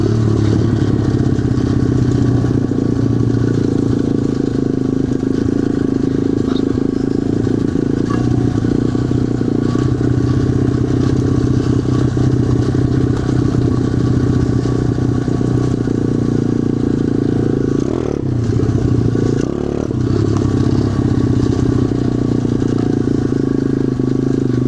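An SSR 125 pit bike engine fitted with a smaller front sprocket bogs down off-road, a loud, steady low motor drone running throughout with a brief dip in power near the end.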